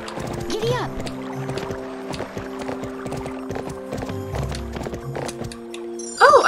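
Hooves clip-clop in a steady trotting rhythm in the Barbie Horse Adventures video game, with game music and effects layered underneath and a brief burst of sound at the end.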